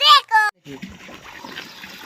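Water splashes and trickles out through a torn spot in a homemade backyard swimming pool, a steady close splatter and dribble that follows a short burst of a voice.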